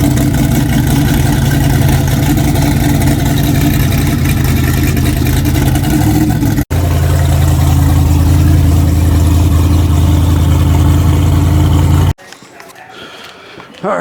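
A car's swapped-in replacement engine fired up on a cold day, running with a steady loud rumbling idle close by, briefly cut, then resuming before dropping to quieter background noise at the end.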